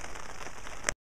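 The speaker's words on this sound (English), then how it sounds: "as you might be able to hear, I'm not going to get out of the tent anytime soon because it's raining" Rain pattering steadily on a tent in the morning, a dense close patter of drops on the fabric that cuts off abruptly.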